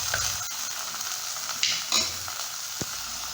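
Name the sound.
sautéing shallots and tomato in a pan for fish curry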